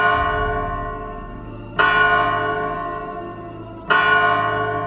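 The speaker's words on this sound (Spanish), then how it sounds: "las campanas tocaron la tercera llamada" Church bells toll loudly, two heavy strikes a couple of seconds apart, each leaving a long shimmering ring that slowly fades, with no voices.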